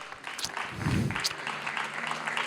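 An awards ceremony audience applauds a first-prize winner, a broad wash of clapping at moderate level with a fuller swell in the middle, lasting a couple of seconds.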